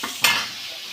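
Pointed gourd and leafy greens fry in a home kitchen pan, with one sharp stirring scrape over a continuous close sizzle of oil.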